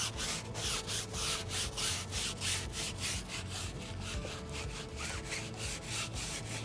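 A brush scrubs a foamy car wheel in fast, rhythmic back-and-forth strokes, a steady close scratchy swishing with no talk.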